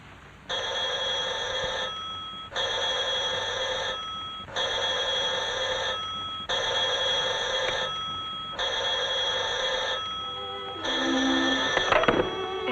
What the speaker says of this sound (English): If my phone rings, would you mind answering it and taking the messages?